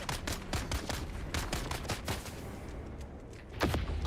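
A minigun fires in the Star Citizen video game, with dense continuous rapid-fire bursts, loud and close, that ease off briefly before one more heavy burst.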